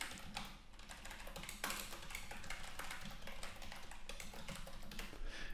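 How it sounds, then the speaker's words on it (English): Typing on a computer keyboard while entering details into a web contact form, a steady run of quick soft clicks and taps throughout, close and alone with no talking. "I'll type in my details."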